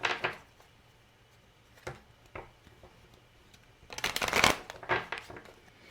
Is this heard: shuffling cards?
yes